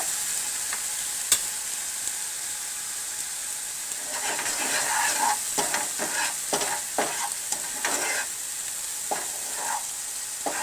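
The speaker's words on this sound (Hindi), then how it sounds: "और इसको हम अच्छी तरह से सौते करेंगे," Masala sizzles and fries in oil for masoor dal, a continuous hiss that grows busier midway as a spoon scrapes and stirs the pan in quick irregular strokes, close up with no voices.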